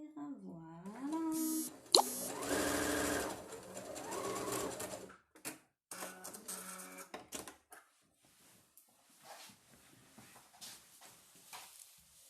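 A home sewing machine runs in short whirring bursts while topstitching a fluid-fabric snood, with someone speaking French between and over the stitching; the later part turns quieter with soft handling noises.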